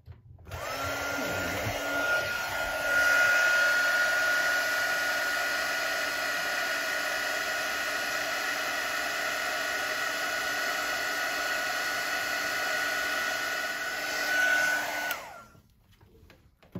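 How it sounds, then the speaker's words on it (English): A handheld heat gun blows steadily for about fifteen seconds to dry paint on a mixed media tag, a loud continuous whooshing hiss with a faint whine that starts abruptly and cuts off near the end. "All right, heat gun."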